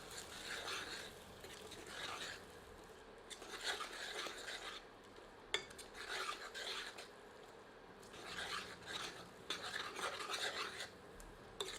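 Green chickpea paste being mixed in a pan for hare chane ka nimona, heard as soft rhythmic scraping and stirring strokes in repeated bursts, fairly quiet and close.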